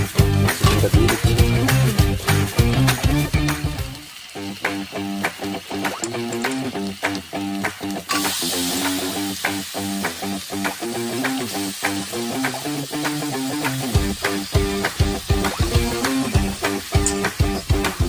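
Chicken pieces frying in spiced oil in a home kitchen pan, a busy steady sizzle with clattering stirs and utensil knocks, loud and close, continuing throughout without talk.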